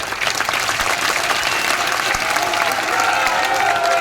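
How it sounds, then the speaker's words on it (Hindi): A dense, steady burst of clapping from a large crowd at a Congress election rally for candidate Sukhram Bishnoi, loud and unbroken throughout. "इस बिश्नोई साहब के लिए जबरदस्त तालियां हो"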